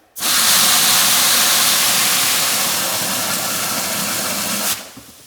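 Water from a faucet sprays in a loud, steady hiss, starting abruptly and running for about four and a half seconds before cutting off sharply.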